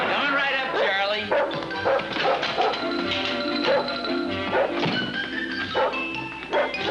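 A dog barks repeatedly in the sitcom The Adventures of Ozzie and Harriet, with loud, close woofs and yips coming in irregular bursts.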